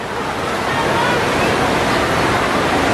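Strong river water rushing in the Korean countryside, a steady broad roar that stays loud and close from start to finish with no pause.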